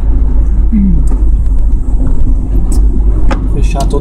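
Car interior rumble while driving across the Bay Bridge, with loud steady engine and road noise and a few light clicks, close and continuous; someone talks over it.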